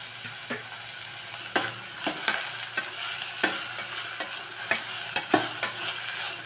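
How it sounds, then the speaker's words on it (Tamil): Chopped tomato being stirred and sautéed in a pan while cooking a samai (little millet) pulao, with a steady sizzle and repeated scraping stir strokes, close and fairly loud, no talking. "இப்போ தக்காளி வதங்கிறதுக்கு உப்பு, இந்த ரெசிபிக்கு எவ்வளோ தேவையோ அவ்வளோ உப்பு சேர்த்துக்கலாம்"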